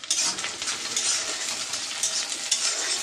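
Chicken sizzling and frying in a pan for a birthday meal, a steady loud hiss with stirring scrapes throughout, no voices.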